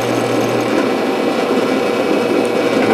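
Loud, steady whine of a power drill grinding into a broken metal bolt on a rotor head, continuous and close, with no voices.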